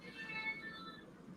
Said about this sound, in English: My cat is meowing to get in or out of the door